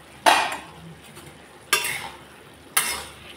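Malabar spinach (pui) greens stirred in a pan, three separate scraping strokes spaced about a second apart, each fading quickly, close and fairly quiet with no talk.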